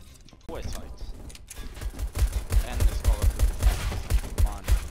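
Video game gunfire in a rapid run of punchy shots that starts about halfway through and holds a steady rhythm, under a player's excited talk.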